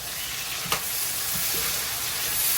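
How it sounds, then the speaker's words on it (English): Beef sears in a big pan for Guyanese beef chowmein, giving a loud, continuous sizzle and crackle throughout, with a single brief utensil knock early on. "You want it to have like a nice sear to the meat."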